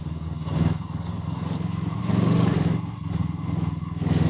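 A JEDI NK333 twin-cylinder sport motorcycle engine runs close by with a steady throbbing hum, swelling slightly as the throttle is twisted, with no speech over it.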